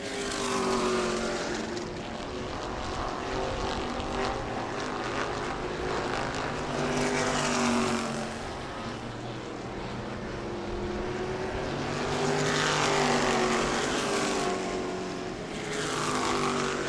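Race cars at New Smyrna Speedway on Family Fun Night, engines roaring steadily down the straightaway with rising and falling passes as the cars sweep by, loud and continuous.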